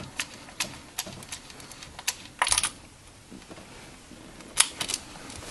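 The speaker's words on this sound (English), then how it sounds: "There's our 13/16 socket with a 1/2 inch ratchet we're gonna be using for this job." A 1/2 inch ratchet fitted with a 13/16 socket clicks on a 2014 Kia Forte 2.0 during a PCV valve replacement, giving a few scattered sharp ticks and one brief rapid burst of clicks, fairly close and without talk.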